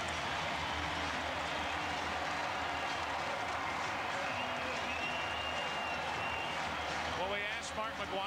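Stadium crowd applauding at a St. Louis Cardinals versus Chicago Cubs baseball game in 1998, a dense, steady roar of clapping and cheering that holds throughout, with a broadcaster's voice talking over it.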